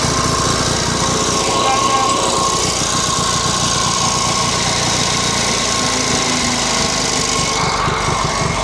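A JAP 55 stationary engine ticks over steadily at idle, a continuous loud mechanical drone with a tight, even rhythm that holds without a break.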